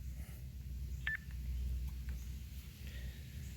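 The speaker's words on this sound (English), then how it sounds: "So now I'm getting the Roger beep back from the repeater" A brief, faint electronic roger beep from a radio repeater, received on an Icom IC-705, cuts through a low, steady radio hiss, followed by a few quieter chirps.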